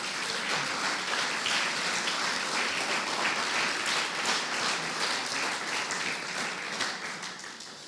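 A church congregation applauding during a sermon: dense, sustained clapping from a crowd fills the whole stretch at steady loudness, tapering slightly at the end.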